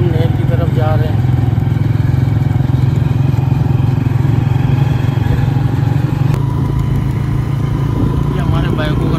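Motorcycles ride along a road toward a canal in Balochistan, their engines droning steadily and loudly throughout with wind rush, close to the listener.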